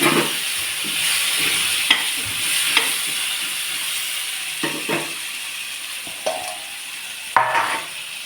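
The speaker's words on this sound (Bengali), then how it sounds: "আলুটা এখানে ভেজে নেব।" Potato pieces frying in a pan for a fish-head and flat-bean curry make a continuous sizzle, broken by occasional sharp scrapes and clinks as they are stirred.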